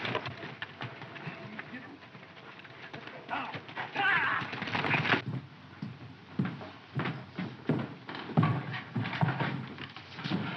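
Horse hooves clip-clop in a 1941 Western film scene, a steady run of irregular thuds that swells and fades over about ten seconds, mixed with background noise and some voices.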